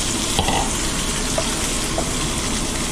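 Potatoes hitting a hot frying pan where garlic and seasoned largemouth bass fillets are cooking, giving a steady, loud, dense sizzle with a few brief crackles, close up and with no voices.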